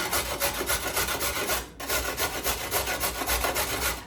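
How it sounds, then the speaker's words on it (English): A peeled carrot is rubbed against a kitchen grater in quick, even rasping strokes, close and fairly loud, with one brief pause partway through and no talking. "so we're gonna just do this on the grater"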